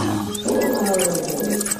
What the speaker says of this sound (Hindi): गुस्से में आकर शेर जोर जोर से दहाड़ने लगा।